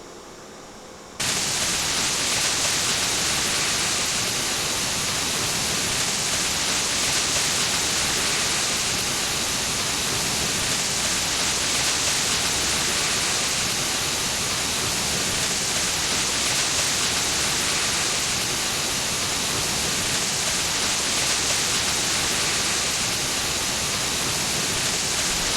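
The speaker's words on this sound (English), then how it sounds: "away we go, spraying water" A Roblox ladder truck sprays water in a video game, heard as a loud, steady, broadband rush like a hose or waterfall that starts abruptly and runs unbroken for over twenty seconds with no talk.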